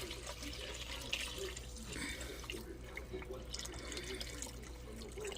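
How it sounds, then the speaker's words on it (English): Liquid pours and splashes steadily as turkey bone broth is drained into a bowl, a continuous close trickle with brief louder gushes, under a faint hum. "I'm draining the broth."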